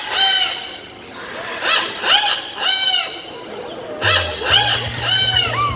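At a bird park, a parrot imitates a rooster crowing with a run of repeated, harmonic, crow-like calls. A low mechanical hum sits under the later calls.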